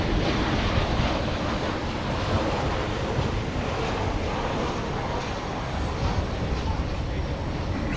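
Planes at DFW Airport at night give a steady, broad jet roar that holds evenly for the whole stretch, loud and unbroken, with no clear voices above it.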